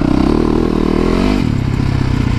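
A supermoto motorcycle ridden on wet ground, its engine roaring loud and close with a steady revving drone that drops in pitch partway through.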